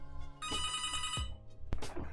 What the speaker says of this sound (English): Phone is going off today.